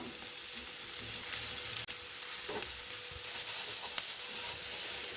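Chopped beetroot frying in a pan for a beetroot potato curry, a steady sizzle broken by scraping stirs and a few sharp clicks of the spoon, close and alone.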